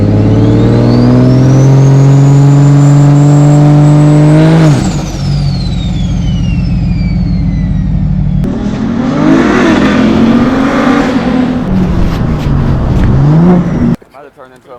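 Turbocharged BMW 335i engine revving hard and accelerating, loud and close from inside the car, its pitch climbing and then dropping with a gear change before building again, with voices talking over it.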